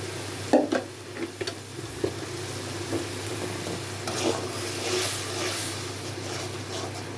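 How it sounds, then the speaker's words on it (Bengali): Cumin and spices sauté in oil, giving a steady close sizzle broken by a few stirring scrapes and knocks against the pan, with no one speaking. "এখন মশলাটা একটু কষানো হবে"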